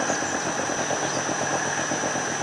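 An engine driving an asynchronous generator runs at a steady, loud, continuous drone with a fixed high whine on top, holding an even pitch rather than audibly revving up.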